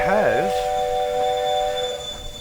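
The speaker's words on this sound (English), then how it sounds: "it starts like pretty much with a basic ass fucking steam train" A steam locomotive in a train video game sounds a wavering whistle at the start, then a steady rumbling hum carries on under a voice.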